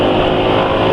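A motorcycle running a four-stroke Esso 4T Pace oil with an additive roars steadily during a top-speed run, loud and continuous, with engine drone blended into heavy wind rush.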